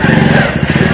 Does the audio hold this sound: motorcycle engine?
yes